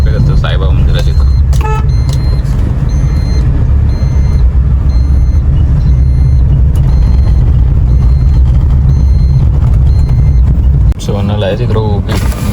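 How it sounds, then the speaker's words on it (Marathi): Dense road traffic on a busy street near a Sai Baba temple: a constant loud engine rumble with short car horn toots breaking through, close and unbroken throughout. "मधल्या रोडला तर ना लयच ट्रॅफिक असतं साईबाबा मंदिराच्या इथं"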